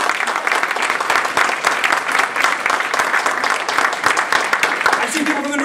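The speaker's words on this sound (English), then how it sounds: "Give yourself a round of applause" Audience in a hall at a Toastmasters division contest breaking into a round of applause, sustained crowded clapping with a voice starting to speak as it fades.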